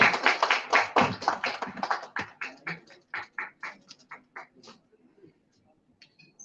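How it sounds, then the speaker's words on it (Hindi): Applause at an office inauguration in Dhanbad, starting dense and loud, then thinning into scattered individual claps that fade out over several seconds. "जोरदार तालियों के साथ"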